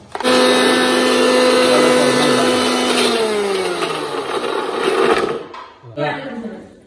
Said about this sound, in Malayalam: ഏതായാലും മിക്സിയിലിട്ടൊന്ന് അടിച്ചെടുക്കാം.